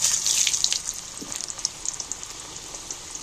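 Potatoes dropped into hot leftover frying oil for a desi chicken curry set off a bright, hissing sizzle that is loudest at first, then settles into a quieter crackle.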